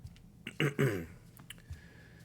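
A person coughs and clears their throat close to the microphone, with a couple of short, rough bursts followed by quieter throat noises in an otherwise quiet room.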